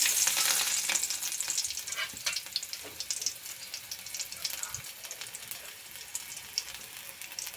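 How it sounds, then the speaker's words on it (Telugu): Mustard seeds and crushed raw garlic cloves frying in hot oil in a pan for upma, a steady close sizzle with light crackle and a few stirring scrapes, no voices. "ఆయిల్ వేడయ్యాక కొద్దిగా ఆవాలు, పచ్చగా దంచుకున్న వెల్లుల్లి రెబ్బలు"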